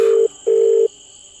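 Two steady electronic telephone tones, a short beep and then a longer one, sound loud and clean with a faint hum beneath and nothing else.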